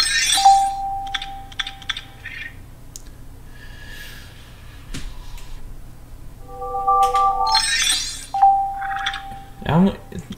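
LEGO Star Wars sound effects play on a hacked Wii system menu: a run of short electronic beeps, chimes and clicky blips, some tones sustained, ending in a lower warbling effect, all fairly loud and close with no talk.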